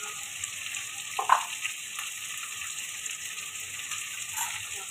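Red chili, turmeric and salt fry quietly in a pan for shorba, giving a faint, steady sizzle with a brief clink of the spoon near the start.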